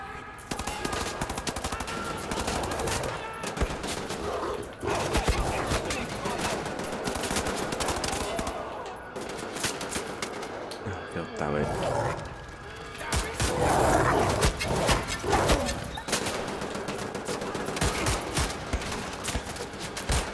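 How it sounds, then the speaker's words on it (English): Enemy guns firing in the shooter game Wolfenstein, a loud, continuous barrage of rapid automatic fire lasting throughout with brief dips, and no speech over it. "Oh, people shooting me from behind."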